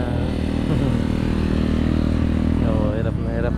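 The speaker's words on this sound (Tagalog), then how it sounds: "Oo, hirap na hirap mga motor oh." Motorcycles labour along a road with a continuous loud engine drone, close and steady, and one engine climbs in pitch near the end.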